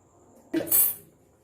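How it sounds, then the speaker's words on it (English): A utensil pokes holes in a homemade pizza bread base cooked without an oven, giving one brief close scrape and clink that fades quickly in a quiet room. "now I will just put some holes over it"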